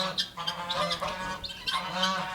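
Loud, harsh honking cries from several guinea fowl, including a green-legged breed, repeating in ragged bursts close by, overlapping one another.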